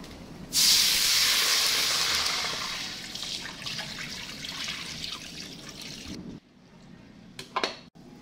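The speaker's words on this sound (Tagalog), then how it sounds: "Magpapakulo na po tayo ng tubig." Loud rushing hiss of water and steam starts abruptly in a pot boiling for pancit broth and slowly fades into a bubbling simmer, then cuts off, followed by a few small clinks.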